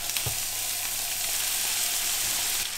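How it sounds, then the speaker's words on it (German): Turkey leg pieces and vegetables fry in fat in a pan, giving a steady, close, loud sizzle and crackle with occasional stirring bumps and no talking. "Aber das lassen wir jetzt erstmal schön anbraten."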